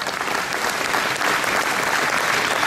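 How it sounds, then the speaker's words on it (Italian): Dense, sustained applause from an audience at a public presentation on the Trieste regasification terminal, loud and even throughout with no voices over it. "Un applauso."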